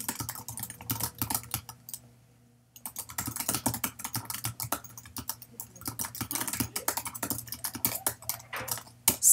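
Quick, irregular keystrokes on a computer keyboard as a comment is typed, a steady run of clicks with a brief pause partway through, close and alone with no talking.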